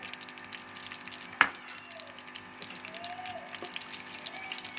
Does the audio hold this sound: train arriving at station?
no